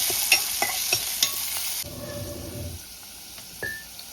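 Chopped onion and tomato fry in a hot pan, a soft sizzle under sharp spoon taps and stirring scrapes, the hiss dropping away partway through as the mixture settles.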